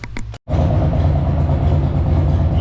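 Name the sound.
Harley-Davidson Sportster engine running with front cylinder knock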